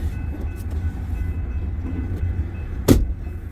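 An eastbound train pulling out of a rail yard gives a steady low rumble throughout, with a sharp metallic clank near the end standing out above the drone.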